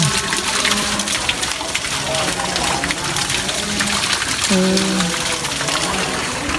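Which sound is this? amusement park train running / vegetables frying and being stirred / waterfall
waterfall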